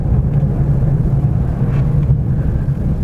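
A car pulls away in first gear on a bypass road, its engine giving a loud, low, steady rumble close by. No one speaks.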